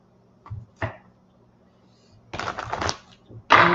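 Tarot cards are shuffled in two separate riffling bursts, each with a crisp papery flutter, set apart by a few soft taps and handling sounds in an otherwise quiet room.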